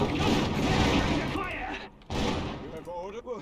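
Units open fire in the real-time strategy game Iron Harvest, a dense burst of gunfire and booms packed close together, briefly cut off by a short gap before the shooting resumes at a slightly lower level.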